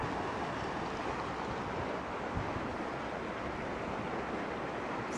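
Ocean waves wash steadily at Cala Llombards, Mallorca, in a continuous broadband hiss of clear water along the shore, with no voices.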